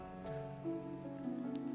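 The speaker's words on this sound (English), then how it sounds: "All I wanted was to just look around the Black Shroud, but it had to be pouring rain." Pouring rain in the Black Shroud forest of the video game Final Fantasy XIV, a steady soft patter over a sustained tonal background, with no talking.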